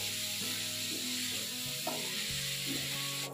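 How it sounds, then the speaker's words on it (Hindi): Vegetables for dry Manchurian stir-fry in a pan with a continuous soft sizzle and scraping stirs, heard close beneath a steady tonal background hum, with no speech. "ये सब्जियां हमारी भुन गई हैं।"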